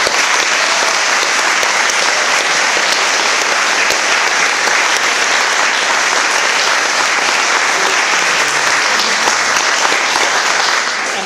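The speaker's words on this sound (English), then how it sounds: "could we just have a round of applause for the international staff?" Audience at an international school leavers ceremony giving a long, loud, sustained round of applause for the international staff, a thick unbroken roar of clapping that fades only at the very end.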